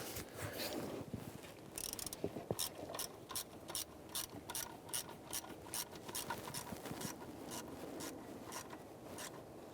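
A hand ratchet snugs bolts on the engine of a 2015-2020 Cadillac Escalade during a camshaft timing magnetic adjuster replacement, giving repeated rapid clicking bursts in steady rhythm, close and moderately loud.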